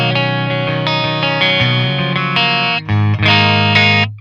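Electric guitar through an amplifier's clean channel with the gain set low, chords ringing out loud and sustained. Several strums let notes hang before a short break and a final chord that fades away.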